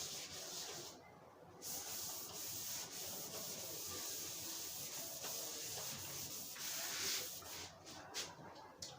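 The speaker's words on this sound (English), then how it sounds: "permit me to now rub this out" Someone erasing writing from a classroom board gives a continuous dry rubbing and scrubbing hiss, close and steady, with brief pauses between strokes and no voices.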